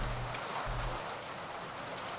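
Steady rain falls in the indie horror game Kiosk, a dense, even hiss of downpour with a faint low rumble beneath, continuous and fairly close, with no voices.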